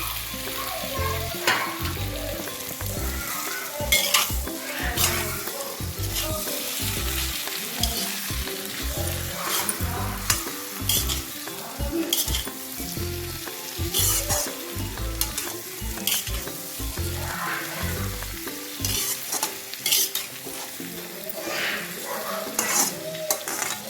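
Patiud, a traditional Garhwali dish from Uttarakhand, frying with browned onions in a pan: steady close sizzling with repeated scraping and clinking of a utensil stirring against the metal, continuing throughout without speech.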